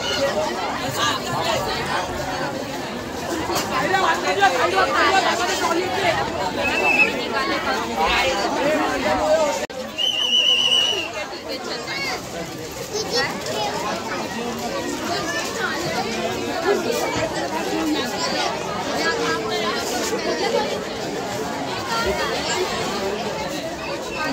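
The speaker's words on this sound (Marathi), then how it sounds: "भंडाऱ्याला खूप जास्त गर्दी झालेली आहे." A large crowd chatters and murmurs continuously at a Sai Baba temple bhandara food offering in Bhandup, a dense babble of many voices with brief clinks and movement.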